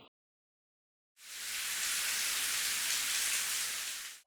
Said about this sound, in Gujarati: આકરા તાપ વચ્ચે કમોસમી વરસાદ